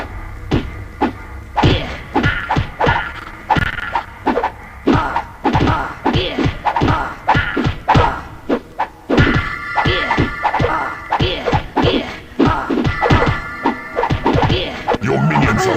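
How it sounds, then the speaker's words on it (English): Creatures in the PC game Dungeon Keeper fight an enemy, producing a rapid stream of loud whacks, thuds and crashing blows in irregular bursts, with brief game voice prompts mixed in. "Your creatures are attacking the enemy."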